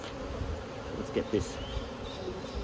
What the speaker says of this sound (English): There's our bees in our wash.